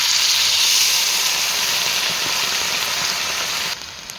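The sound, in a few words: water added to hot frying vegetables, sizzling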